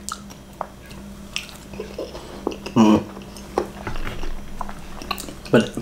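Close-up wet chewing and soft squishing of takoyaki octopus balls, irregular mouth sounds with occasional light clicks, intimate and fairly quiet with a low background hum.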